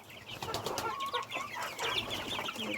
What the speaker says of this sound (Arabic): الفراخ الصغيرة بتاعتنا